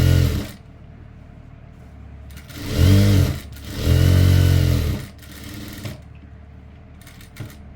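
A sewing machine stitches a lined chudithar in two loud, close whirring runs of a few seconds each, with quieter handling and clicks before and after.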